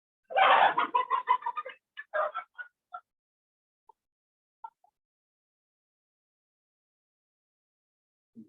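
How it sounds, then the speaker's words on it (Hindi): Chickens, a rooster among hens, cluck and call in a loud close burst of rapid notes that thins into a few scattered calls, then goes quiet apart from one low sound at the very end. "तो मुर्गा मुर्गी लोग तैयार बन गए ना, एक तो चिल्लाता है तो दूसरा भी ऐसा।"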